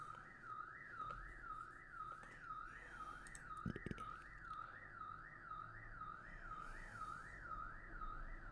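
A neighbor's car alarm wails in a steady rising-and-falling siren cycle, looping continuously and fairly loud, with a brief thump partway through and no talking.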